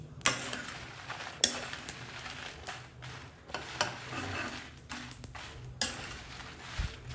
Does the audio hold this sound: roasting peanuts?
yes